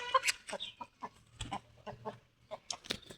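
A rooster clucks and calls in short, uneven bursts close by, moderately quiet, with farmyard bird sounds and no talking.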